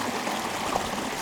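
Creek water flows in a soft, continuous trickle close by while a LifeStraw filter bag is filled, brief and steady with no talking.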